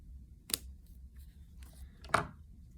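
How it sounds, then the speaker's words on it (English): Scissors snip weaving string close to the teeth of a loom, two distinct crisp cuts about a second and a half apart, near and clear over a quiet room. "you're going to cut your string close to the teeth"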